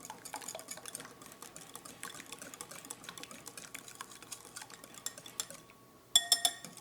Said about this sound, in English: you just want to mix up your eggs with your cream, like so, and your zest